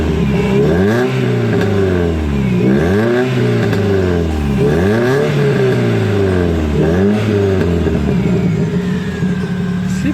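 A Toyota MR2's engine revs repeatedly in rising and falling sweeps, its throaty, guttural exhaust note loud and close, with about four distinct rev cycles over a steady idle rumble.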